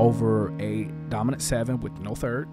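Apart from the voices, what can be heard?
None of the usual background noises is heard.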